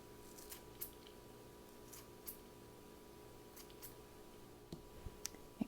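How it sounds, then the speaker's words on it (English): Herb cutting scissors snipping basil leaves, a scattered series of quiet, crisp clicks and snips against a soft background hum. "I have some handy dandy little herb cutting scissors, and just watch this"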